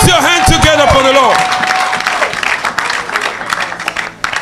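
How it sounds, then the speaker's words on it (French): A church congregation applauds, with dense clapping and a few cheers under a sung or shouted voice near the start. The clapping starts strong, then thins out into scattered claps. "Put your hands together for the Lord."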